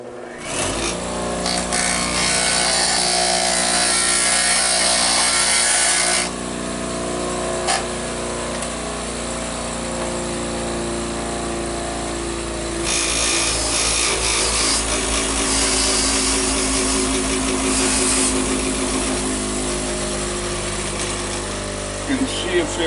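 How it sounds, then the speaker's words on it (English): Grinder taking material off a Mercedes-Benz W124 rearview mirror part in a workshop, a steady loud whine running for most of the stretch with brief pauses and shifts in pitch. "So I'm going to grind off just a little bit of that."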